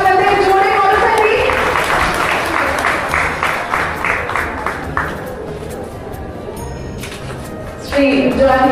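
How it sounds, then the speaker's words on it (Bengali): Applause from a convention-hall audience at an Amarnath Yatra 2025 gathering, a loud sustained wash of clapping that thins and fades, then swells again briefly at the end, with a voice over it. "সাথে থাকা আপনাদের জোরে করতালি।"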